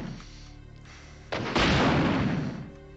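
A rocket launcher fires in Resident Evil 2: a sharp launch crack followed by a loud, rumbling explosion that swells and slowly fades, heard alone.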